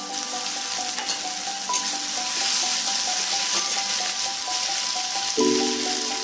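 Chopped tomato fries in a pan for a Bengali catla fish and potato curry, a continuous close sizzle and crackle with a few stirring knocks and a louder burst near the end.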